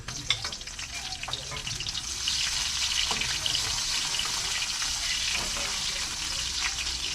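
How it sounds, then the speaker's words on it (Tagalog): Bombay onions sizzle in hot oil with garlic already browned in the pan, cooking for pancit bihon; a steady, close frying hiss with light stirring scrapes runs throughout, with no talk. "isunod natin itong sibuyas na itong Bombay na sibuyas. Yan, golden brown na"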